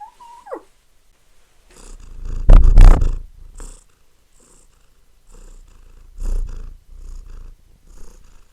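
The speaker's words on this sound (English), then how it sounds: "She's just constantly purring." A pet cat purrs close by in soft, rumbling bursts with quiet gaps between them, after a brief high chirp at the start.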